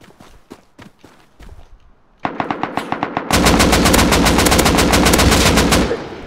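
A modded AK rifle fires from the hip in the game Rust, first a run of separate sharp shots, then a loud sustained full-auto spray lasting several seconds before it cuts off, with no speech over it.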